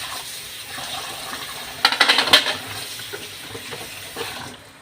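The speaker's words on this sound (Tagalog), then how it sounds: "Hugas-mugas muna tayo ng mga pinagkainan" Dishes are washed under a running tap, with steady water hiss and a cluster of clinking utensil and plate knocks near the middle, followed by scattered softer taps.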